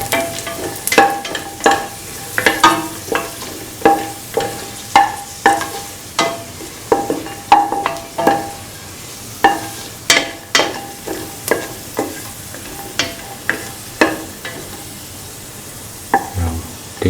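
Cashews fry in a pan for a carrot coconut milk pasta, with a steady sizzle broken by a regular run of loud scraping stirs and knocks of a spoon against the pan, close and continuous.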